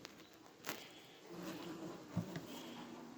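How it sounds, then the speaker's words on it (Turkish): Honeybees buzz in a hive during a colony merge, a faint, steady hum with a few soft taps and rustles over it. "Şimdi bunda epey arı var şu birleştirme yapacağım kovanda."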